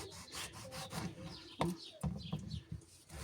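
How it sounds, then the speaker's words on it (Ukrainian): A knife slices a tomato into rings on a board for a tomato-and-egg appetizer, giving a few soft, close cutting strokes and rubs in short bursts with a sharp tap midway. "беремо наш помідор і нарізаємо такими кільцями"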